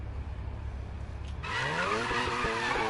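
A Mazda RX-7 drifting in a Need for Speed game, engine droning before a sudden loud tire squeal breaks in halfway and holds with a wavering pitch to the end.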